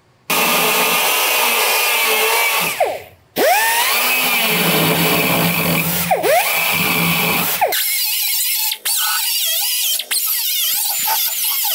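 A carbide bit drills out spot welds on a 1960s GMC/C10 truck panel, giving a loud, close, high-pitched whine that cuts out briefly between welds, with no talking.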